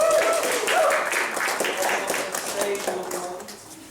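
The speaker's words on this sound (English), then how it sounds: "Give them a round of applause." An audience at a school show applauds, a brisk patter of many hands with a voice speaking over it as the clapping gradually thins.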